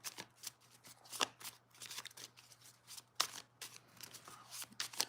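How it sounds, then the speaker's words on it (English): Tarot cards are shuffled in a small, quiet shuffle during a Sagittarius reading, with soft riffling swishes and a few sharper card snaps, no talking. "Small shuffle."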